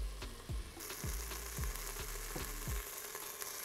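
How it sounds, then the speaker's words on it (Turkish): Chunks of meat sear in a pot with no extra oil, giving a steady close sizzle and crackle broken by repeated soft stirring scrapes and knocks. "Etlerimin her yerini mühürlüyorum."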